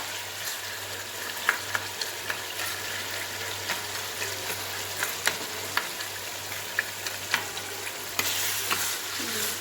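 Tomatoes and onions sauté in a pan with a steady, soft sizzle, broken by frequent scrapes and taps of a stirring spoon. A low background hum runs underneath.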